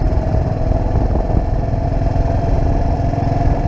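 A vintage motorcycle engine with sidecar pulls steadily, its low exhaust chugging and clattering at a constant loud level throughout.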